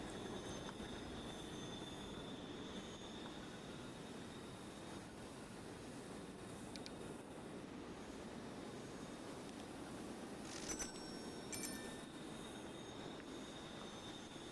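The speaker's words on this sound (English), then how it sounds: "we can get the trains moving" Trains rolling in the railway sim game Transport Fever 2, a steady rumbling run of rail cars with high wheel squeals and a couple of brief sharp screeches near the end, no talking.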